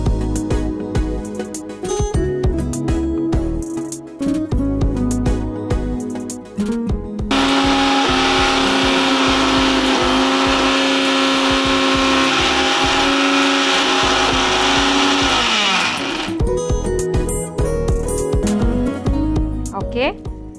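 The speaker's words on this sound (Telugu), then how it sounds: "మిక్సీ పట్టుకుని వచ్చేస్తాను." Kitchen mixer grinder (mixie) grinding urad dal without water for batter, a loud steady motor whine that starts abruptly, runs for about nine seconds and cuts off, with clattering and voices before and after.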